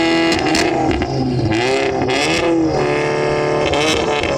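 A Volkswagen Golf engine revving hard in a rev battle, with a loud, sustained, raspy roar whose pitch rises and falls through repeated blips, up close.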